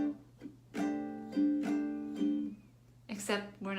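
Acoustic-style guitar strumming the second measure of a verse pattern for jazz jam practice: several ringing strums with muted scratchy upstrokes between them, near and moderately loud, and the chord changes near the end.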